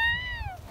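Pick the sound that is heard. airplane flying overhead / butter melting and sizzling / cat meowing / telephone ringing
cat meowing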